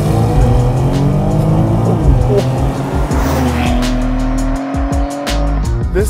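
A 2022 BMW X3 M Competition SUV accelerates hard, its engine note climbing loudly through the revs as the tires squeal, with a brief shift break near the end.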